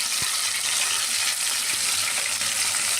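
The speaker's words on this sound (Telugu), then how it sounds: "వేసుకొని ఈ ముద్దని ఆయిల్లో బాగా ఫ్రై చేయాలి." Ground spice paste with green chillies fries in hot oil, making a loud, continuous close-up sizzle with faint stirring scrapes and no voices.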